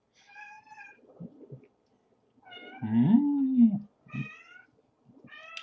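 A cat meows several times, one long drawn-out yowl in the middle and shorter mews around it, close by with quiet pauses between.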